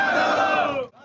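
Protesters at a sit-in against the HDA administration shout a slogan together in a loud, brief crowd chant that breaks off after about a second.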